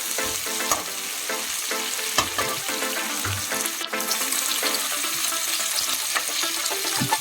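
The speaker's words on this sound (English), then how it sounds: "Now stir fry it for about 2 to 3 minutes till the shallots become nice and translucent" Chopped shallots stir-fry in a pan over medium heat for a village chicken gravy, giving a continuous sizzle broken by the clatter of a spatula scraping and stirring.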